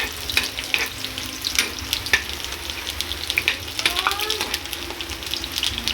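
Garlic and onion sizzle in hot oil in a pan, a close, bright crackling hiss with irregular pops and spatters, and stirring clatters now and then.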